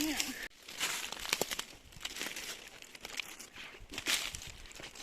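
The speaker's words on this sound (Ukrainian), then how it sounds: "І менші, і більші, поки що кладу в пакетик." Freshly picked wild mushrooms go into a plastic bag outdoors in the Carpathian autumn, making close, crinkly rustles and crackles in uneven bursts.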